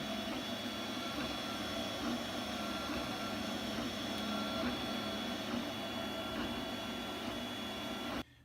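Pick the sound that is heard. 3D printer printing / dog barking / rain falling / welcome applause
3D printer printing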